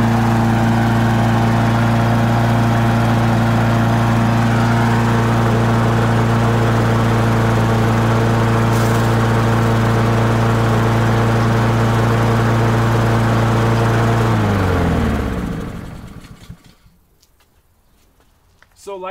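A Honda lawn mower engine with an auto choke runs steadily and loudly up close at an even drone, then cuts off and winds down to near silence.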